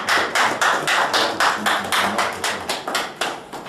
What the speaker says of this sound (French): Applaudissons encore notre intervenant.